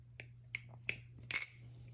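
An aluminum barebones balisong clone knife being flipped, four crisp metallic clicks at irregular intervals, the last the loudest, with a faint steady hum underneath.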